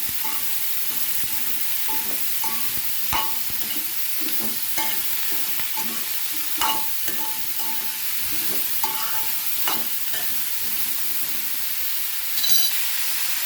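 Snake gourd pieces are stirred while frying in a pan: a constant bright sizzle with repeated light scrapes and taps of the spoon against the pan at an uneven pace.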